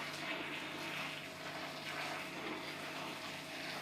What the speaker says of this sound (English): pour in the boiling water.